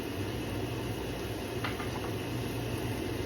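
Braised pork ribs with diced tomatoes simmer in a pot, a steady soft bubbling and hiss that holds evenly throughout, with a few faint clinks partway through.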